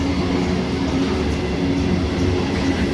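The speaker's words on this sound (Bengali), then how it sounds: "কি ফাঁকা ট্রেনটা দেখ।" A nearly empty local train runs on the Sealdah–Krishnanagar line at a railway station. Its rumble and steady wheel clatter stay loud and constant throughout, with no talking.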